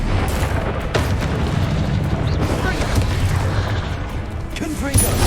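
Confringo fire spell blasts in Hogwarts Legacy, a series of heavy booming explosions layered over constant loud combat noise, with a character's voice shouting amid the din.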